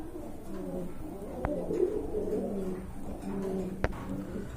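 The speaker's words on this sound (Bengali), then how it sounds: "খুবই সুন্দর কবুতর" Fancy pigeons at a farm coo in soft, repeated, throaty rolls close by, with a couple of sharp clicks in the background.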